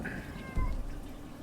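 A cat meows in the video game Skyrim, one short drawn-out meow heard fairly clearly over a low background hum.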